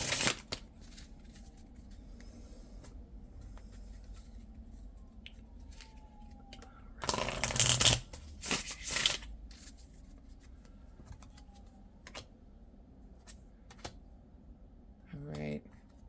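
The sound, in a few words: shuffling oracle cards for a tarot reading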